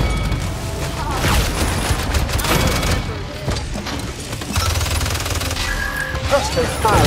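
Heavy weapon fire from the Buster in Paladins on PC thumps and booms in a busy, continuous mix, loud and up close, with voices speaking through the action.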